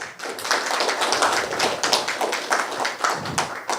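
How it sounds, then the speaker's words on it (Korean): Audience applause greeting new members being introduced at a Korean forum, a steady, dense clatter of many hands clapping throughout, fairly close and full, with no talk over it. "한 분 한 분 소개될 때마다 박수로서 환영해 주시길 바랍니다."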